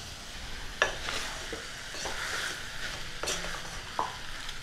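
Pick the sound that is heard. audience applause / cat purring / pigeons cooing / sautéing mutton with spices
sautéing mutton with spices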